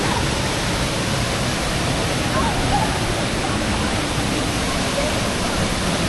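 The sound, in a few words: Sauniatu waterfall rushing water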